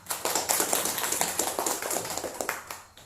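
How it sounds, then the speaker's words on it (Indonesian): A small group of students claps for a classmate in a classroom, a brief, moderately close burst of uneven hand claps that fades out. "kita beri tepuk tangan buat teman kita"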